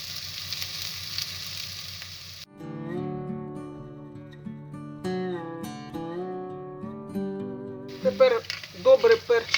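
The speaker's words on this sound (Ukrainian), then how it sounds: "Підсмажилась цибулька, додаємо, додаємо моркву." Onion and carrot sizzle while frying in a pan for a cabbage-roll filling, a steady soft crackle under background music, with brighter spattering bursts near the end.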